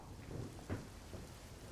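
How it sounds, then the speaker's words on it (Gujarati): Soft, steady hiss of heavy monsoon rain in Padra, Vadodara, Gujarat, faint and distant, with a brief muffled thump partway through. "અત્યારે વડોદરાના પાદરામાં પણ ધોધમાર વરસાદ થયો છે"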